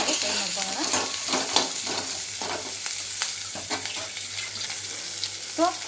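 Onions frying in a pan for a country-style egg and chicken curry, a continuous sizzle broken by repeated scraping stirs of a spatula, with faint tonal clinks in the background.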